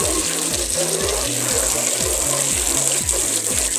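Water runs steadily from a tap in a continuous, close rushing stream, with a faint rhythmic low pulsing underneath.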